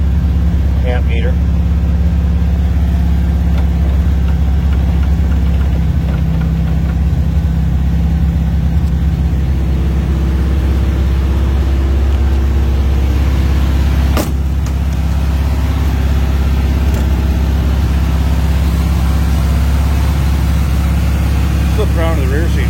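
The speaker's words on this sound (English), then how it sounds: "That was a cold start, so we're going to have a high idle so it will warm up." A car engine runs at a fast, high idle just after a cold start, a steady loud drone held for the whole stretch, with brief clicks and a sharp tap partway through.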